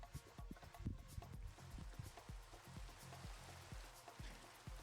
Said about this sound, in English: it wouldn't be Buffooncraft if it wasn't raining